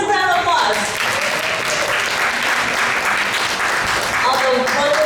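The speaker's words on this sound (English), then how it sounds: "give yourselves a big round of applause" Audience applause fills a hall at a United Nations Day of Peace event with First Ladies, a steady, dense wash of clapping lasting the whole stretch, with scattered voices mixed in and rising again near the end.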